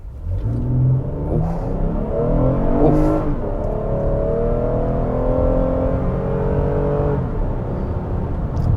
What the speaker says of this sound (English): let's do a 0 to 60 real quick. I'm gonna just hit the accelerator here